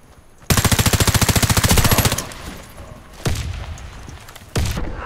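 A rapid, close automatic weapon burst in the shooter Warface rattles for about a second and a half, followed by two separate sharp, heavy single shots with short echoing tails.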